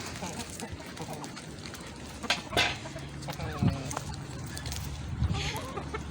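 A hen in a backyard poultry flock clucks in short bursts, with other chickens calling nearby amid faint outdoor background noise and occasional sharper squawks.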